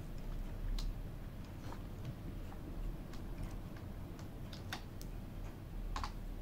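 Light tapping on a computer keyboard, a scattered run of soft clicks at an uneven pace over a quiet background hum, close and fairly faint.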